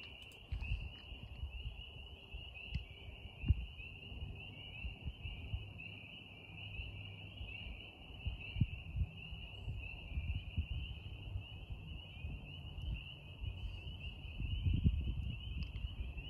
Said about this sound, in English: Listening to peepers.